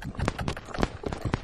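Horse hooves thud in a quick, rhythmic loping beat across a barrel racing arena, close and fairly clear, with about six strikes in a short burst.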